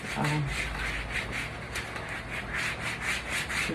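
A soft foam pedicure scrubber rubs back and forth over a leg, making a rhythmic, close, sanding-like swish in repeated strokes, with a little voice in the background.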